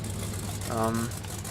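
Stubby Bob vehicle in the Spintires off-road game, its engine rumbling low and steady with a brief swelling rev in the middle, close and fairly loud throughout.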